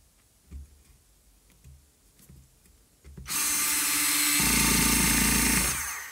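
A Parkside PASS 4 A1 cordless screwdriver driving a small screw: a few faint clicks and handling taps, then the motor whirs up loudly and runs steadily for about three seconds before winding down.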